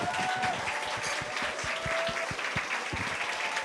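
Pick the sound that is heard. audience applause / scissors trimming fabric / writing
audience applause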